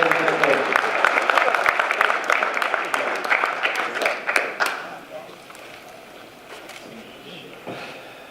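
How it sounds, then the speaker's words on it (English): An audience applauds to welcome a coach to the podium at a men's event, with dense close clapping that fades after about five seconds into scattered claps and room noise. "let's give him another round of applause as we welcome him to the podium"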